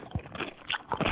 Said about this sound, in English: I don't want to listen to somebody chewing in my ear